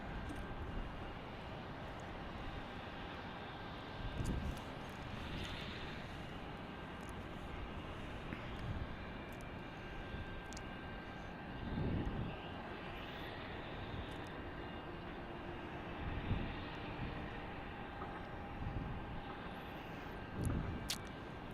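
An American airliner on final approach to Salt Lake City airport, a distant engine roar rising and falling over a steady outdoor rumble, faint and sustained for the whole stretch.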